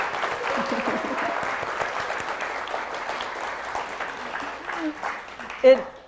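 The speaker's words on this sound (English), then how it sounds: "Yes, let's applaud." Applause from a Sunday service congregation at a Unitarian Universalist church, honoring a graduate's master's degree; steady sustained clapping from a room of people, moderately loud, ending with a brief louder sound near the end.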